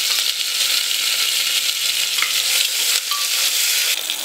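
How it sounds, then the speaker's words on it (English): Chopped onion, curry leaves and green chilies sizzling in hot oil in a pan, a loud, continuous close frying hiss with occasional clinks and scrapes from stirring. "To this now we will add onion. We will add few curry leaves and few green chilies."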